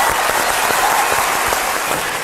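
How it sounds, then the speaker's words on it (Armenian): An audience gives sustained applause for a well-organized award event, a loud, dense wash of many hands clapping steadily throughout. "մի հատ գեղեցիկ ծափարություն այս լավ կազմակերպած ձեռնարկի համար"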